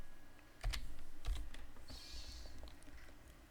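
Bursts of typing on a computer keyboard during a Linux Mint Debian Edition 7 setup, with clusters of close, crisp keystrokes separated by short pauses, fairly quiet over a faint room hum.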